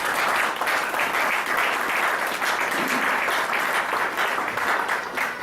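A church congregation breaks into loud applause to acclaim Jesus, with many hands clapping at once in a dense, steady roar that holds for several seconds.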